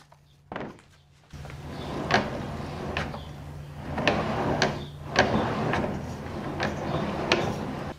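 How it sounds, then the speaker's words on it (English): Rollers under a redesigned table skirt roll over debris, giving a series of sharp, irregular ticks and crackles against a steady low hum, with an earlier isolated knock near the start. "the sound that you're still hearing is just debris that's on there going underneath the rollers"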